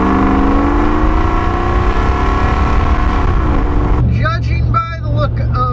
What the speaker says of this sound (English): the LR4 is pretty rowdy sounding